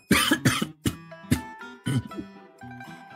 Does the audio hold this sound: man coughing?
yes